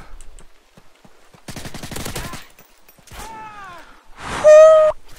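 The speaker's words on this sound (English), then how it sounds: "Who dares shoot at me?" Rapid bursts of automatic gunfire from the video game Call of Duty Modern Warfare 3, loud repeated volleys with game effect tones and a sharp electronic whine between them, no talk over the shots.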